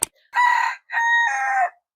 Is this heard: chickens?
yes